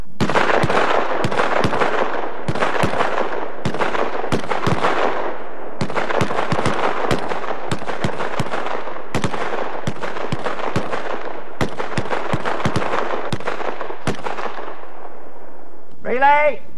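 Rifles fire single rounds on a Canadian Forces range: a long run of sharp, loud gunshot cracks at irregular intervals, some close together, with a brief voice at the very end.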